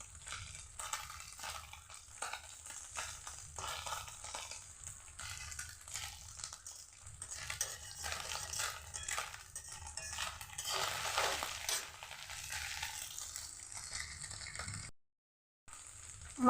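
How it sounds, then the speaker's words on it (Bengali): Small chuna fish fry in a pan, a steady dense sizzle with scraping and clattering as they are stirred, close and fairly quiet, with a brief drop to silence near the end. "মাছটাকে আমি একদম সুন্দর করে নাড়িয়ে চাড়িয়ে মুচমুচে করে ভাজবো"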